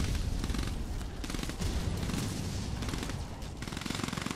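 Continuous rattling gunfire and heavy low rumbles from a battle in the real-time strategy game Command & Conquer 3: Tiberium Wars, a dense unbroken fusillade throughout, fairly soft in level.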